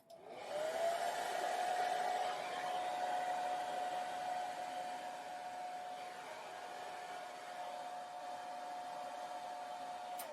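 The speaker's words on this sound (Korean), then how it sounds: "드라이기 노즐은 세로로 해주시는 게 편하실 겁니다" A hair dryer blows continuously while styling hair at the part, a steady airy whoosh with a sustained whine that starts abruptly, stays loud and even throughout, and cuts off at the end.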